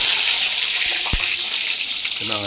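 Small onions (shallots) drop into hot oil for chicken gravy, giving a bright, steady sizzle throughout with a brief knock partway through. A voice speaks faintly at the end.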